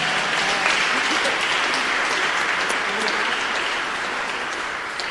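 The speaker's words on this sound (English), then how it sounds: "let's give him a round of applause anyway" An awards show audience at a live global peace song awards broadcast claps steadily for several seconds, a full, even wash of applause that fades slightly toward the end.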